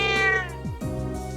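A cat in The Legend of Heroes video game meows twice in quick succession, close and clear, with each call sliding downward in pitch and no voices over it.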